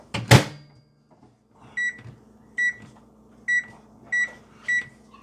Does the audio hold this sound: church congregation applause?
no